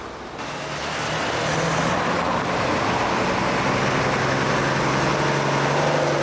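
A London Routemaster bus, RM 1000, passes on Brixton Hill, its diesel engine swelling from a rumble to a loud, steady roar close by amid general street traffic noise.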